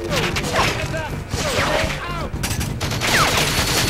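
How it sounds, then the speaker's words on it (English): Gunfire in Goldeneye 007 on the Wii rattles in dense, continuous bursts, loud and close, with game effects and explosions mixed throughout and brief dips between volleys. "Where am I getting shot from?"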